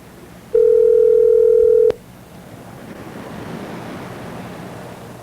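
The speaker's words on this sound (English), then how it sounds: "Listening to the phone ring a little bit." A single steady telephone ring tone sounds on the line for over a second, loud and clear, then cuts off abruptly, leaving a soft background hiss.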